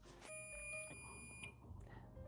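A kitchen timer beeps during a kale-chip baking session, a faint steady electronic tone that holds for about a second and then stops amid quiet room noise.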